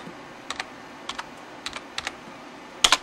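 Keys on a computer keyboard are tapped in short pairs of clicks at a steady pace to type a command in Ubuntu, ending in a louder double strike, close and alone.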